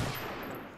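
A single burst of gunfire in Call of Duty Black Ops, a short loud crack that decays quickly, heard alone.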